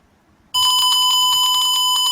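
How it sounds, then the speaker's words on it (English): A DIY fire alarm circuit driven by a smoke sensor sets off its speaker after a half-second of quiet, giving a loud, steady, high-pitched electronic alarm tone that holds continuously to the end. "as you can hear, the speaker has already fired the alarm"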